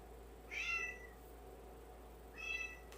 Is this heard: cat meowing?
yes